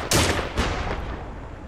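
Gunfire in the World War II shooter game Wasteland Invasión 1944: a loud burst of shots opens, a second blast follows about half a second later, then a fainter report, with no talking.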